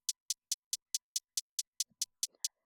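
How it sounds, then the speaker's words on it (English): A crisp hi-hat sample in Reason's Umpf drum player repeats in an even, steady rhythm, a dozen short bright ticks in quick succession, clean and isolated with only a faint stray noise partway through. "drum 5 is our hi-hat, which originally sounds like this"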